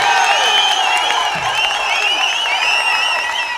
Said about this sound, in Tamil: ஒரு ஓங்கி கைத்தட்டல் கொடுங்க